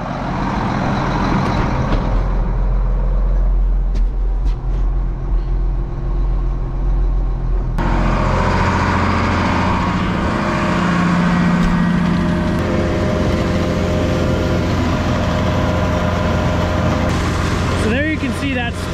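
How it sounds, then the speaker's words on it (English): Tractor running its PTO to drive the pump on a 35,000-litre liquid manure tanker: a loud, steady diesel engine drone with a rising mechanical whine as the pump engages, heavy throughout, with a person talking over it. "We gotta turn the PTO on in the tractor."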